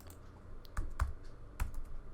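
A few light keystrokes tap on a computer keyboard, scattered clicks at an uneven pace, close by in a quiet room.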